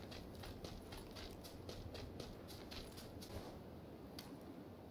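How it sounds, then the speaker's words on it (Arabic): Footsteps of an enemy player running in the video game PUBG, heard as quick, rhythmic, repeated steps. They are faint and come through a constant background hiss. "في واحد قاعد يركض على ال 285"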